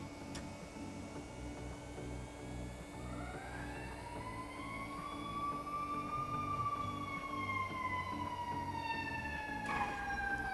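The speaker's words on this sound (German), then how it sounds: "Die Sirene ist auch super laut." Wailing emergency siren rising and sweeping loudly through city traffic, growing nearer over steady engine and road rumble, with a brief sharp click near the end.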